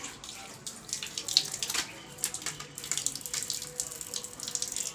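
Clothes being rinsed by hand in water under a household tap, with splashing, sloshing bursts and running water in an uneven rhythm, close by and moderately loud, with faint background voices.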